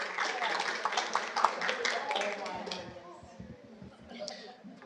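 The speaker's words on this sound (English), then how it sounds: "let's give them one more round of applause for recognition" A room at a city council meeting fills with brief applause, a dense patter of hand claps that tapers off, with talking over it and after it.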